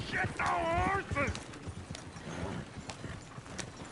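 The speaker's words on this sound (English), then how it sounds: "Oh, shit, the horses." Horses' hooves clip-clop in Red Dead Redemption 2, with a horse's whinny early on, while players talk over the steady trotting.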